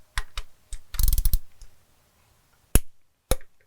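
A torque wrench clicks while head studs are tightened on a 6.0L Ford Powerstroke, a few sharp close clicks and a quick rattling burst followed by two isolated clicks in a quiet space.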